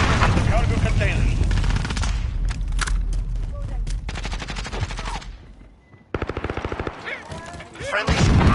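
Dense automatic gunfire in the video game Call of Duty Modern Warfare, rapid loud bursts of machine-gun fire with explosions, a brief lull, then another quick rattling burst and more shooting, with game voices mixed in.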